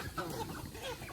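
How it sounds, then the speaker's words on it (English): A big free-range rooster gives a brief, faint burst of clucking outdoors among weeds. "That's a rooster."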